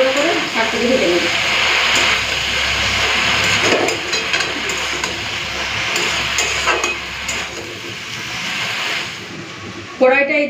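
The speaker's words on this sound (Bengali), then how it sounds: "এইভাবে নাড়াচাড়া করে করে শাকটাকে ভেজে নেবে।" Kalmi greens are stir-fried uncovered in a pan: a loud, continuous sizzle with scraping stirs throughout and a brief clatter near the end.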